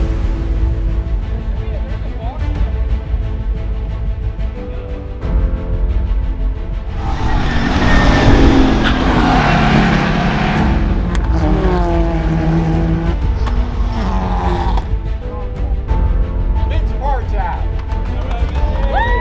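Race cars sweep around the final corner, engines rising and falling in pitch as they pass close by, loudest in the middle stretch, with talking over the engine noise throughout.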